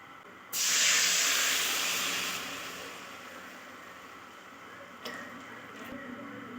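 Filtered coconut flowers poured into hot ghee set off a loud, sudden hissing sizzle that slowly fades to a soft simmer, with a couple of faint clicks near the end.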